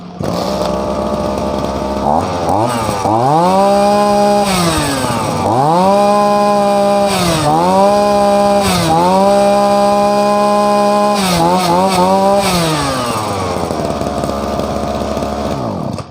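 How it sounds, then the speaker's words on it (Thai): A used Japanese Shindaiwa brush cutter's two-stroke engine running close and loud, its high buzzing note repeatedly revved up and dropped back to idle in a series of throttle blips. "เดี๋ยวมาฟังเสียงเจ้าซอฟดูนะฮะว่า ทำไม สายรับจ้างถึงนิยมใช้รุ่นนี้กันมาก"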